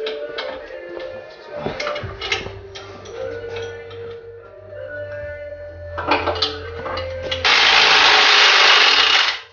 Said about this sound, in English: We're just going to drill into it